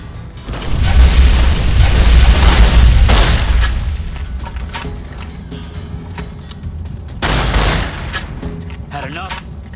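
Explosion in Fallout: New Vegas, a loud close booming blast with a long rumbling tail, then a second heavy burst later amid crackling debris and game noise.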